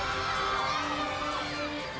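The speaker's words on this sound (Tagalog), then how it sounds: "Napakalakas ng sigawan naman ang mga supporters ng housemates." Supporters of the housemates cheering and shouting in a studio audience of a reality TV show, a continuous loud wall of screams and whoops with high-pitched voices.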